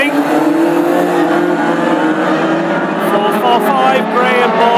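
Classic hot rod race cars running an installation lap at Ipswich, a continuous loud engine roar with a commentator talking over it throughout.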